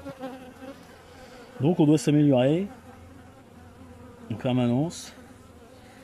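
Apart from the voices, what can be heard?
honeybees buzzing at a beehive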